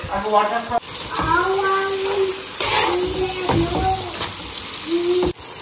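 Spices are stirred into frying oil in a pan with onion, tomato and green chilli, producing a steady sizzle and scraping strokes, while a voice speaks over parts of it.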